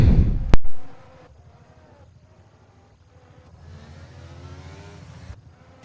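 F1 23 race car engine on the last lap: a loud burst and roar up front quickly drops away, then the engine note rises again as a steady, building whine in the background, with no talking.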